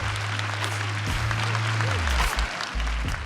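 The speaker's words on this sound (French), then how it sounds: "ils échangent leurs vœux sous les applaudissements de leurs proches" Wedding guests under an orchid-decorated veiled tent applaud steadily, dense clapping that runs throughout beneath a low steady hum and faint talk.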